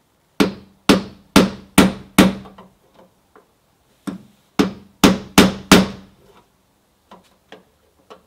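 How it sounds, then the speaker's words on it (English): A heavy 4-pound hammer pounds on a car door panel while a stuck window is being fixed. Two bursts of loud, close, metallic blows land in quick succession, five, then a pause, then five more, with a few faint taps after. "I've got a pretty heavy 4-pound hammer."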